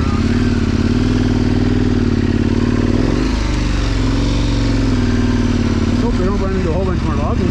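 KTM 1090 motorcycle ridden offroad, a loud, close engine droning steadily with shifting pitch as the throttle changes, while a rider talks over it at points.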